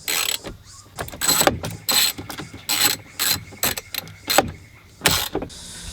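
A hand ratchet undoing 12mm bolts on a Land Cruiser 80 series dash, rapid clicking bursts repeated about seven times, close and crisp in a quiet space.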